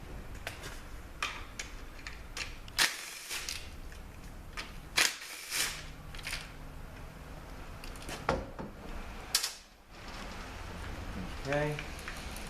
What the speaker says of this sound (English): And now we're going to take the two bolts out.